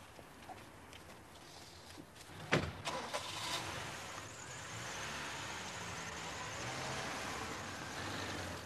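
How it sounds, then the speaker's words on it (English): A car, in 1985, starts up with a brief clatter near the middle and then settles into a steady engine drone as it pulls away, heard fairly close and alone after a short stretch of quiet. "And then Sandy drove the car, it would seem, back to his own flat in Willagarth Avenue."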